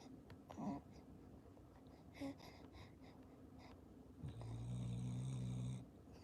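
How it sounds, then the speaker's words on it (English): A dog snores softly at close range in a quiet room, with a few snorts and breaths, then one longer, louder, buzzing snore near the end. "The dog is snoring."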